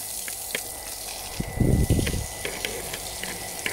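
Water pump jet spraying at full open flow, a loud gushing burst rising for about a second in the middle over steady background noise with faint ticks.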